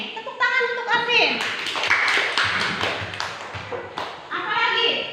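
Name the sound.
class applauding a student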